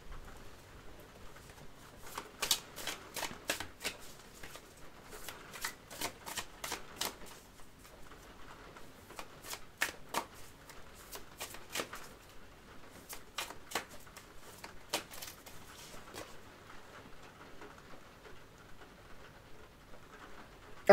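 A deck of tarot cards is shuffled and cards are drawn, giving quiet, close bursts of rapid riffling flutters separated by brief pauses and soft handling over a faint background.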